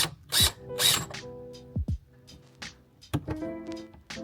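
Torx screw being backed out of a Porsche Cayenne tailgate, heard as short close-up bursts of a driver tool with ratcheting clicks and mechanical rattles, separated by brief pauses.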